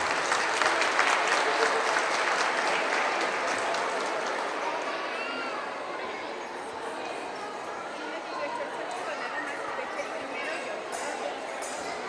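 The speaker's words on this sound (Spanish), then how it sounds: "Les damos un aplauso de bienvenida," Welcome applause from an audience at a kindergarten community event, clapping strongest at the start and gradually thinning to scattered claps and crowd noise over about twelve seconds.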